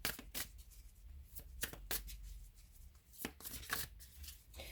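A deck of tarot cards is shuffled close up, with repeated riffling bursts and soft slaps of cards in an uneven rhythm, quiet and with no talking.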